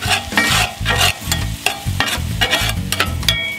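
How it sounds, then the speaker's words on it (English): Garlic cloves stirred in a pot for beer cheese soup: loud, close, rhythmic scraping strokes over a steady sizzle, repeating several times in quick succession. "Stir it all up."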